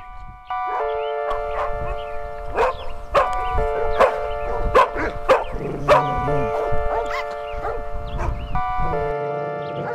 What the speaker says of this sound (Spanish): Tres perros que acompañaban al grupo se lanzaron a ladrar furiosamente en un primer momento